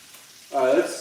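Bacon frying in a pan gives a brief, close sizzling crackle that starts partway through and continues at moderate loudness.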